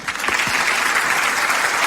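A studio audience applauds a guest arriving on an Italian radio show, a short burst of loud, dense clapping that starts abruptly and stays even to the end.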